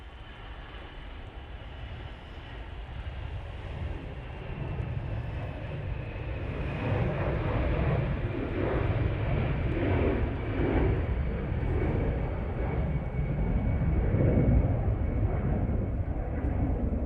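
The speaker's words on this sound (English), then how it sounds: "let's get this EasyJet departing" An EasyJet airliner departs Manchester Airport, its jet engines a steady, broad roar that slowly builds in loudness over the whole stretch, with no voices over it.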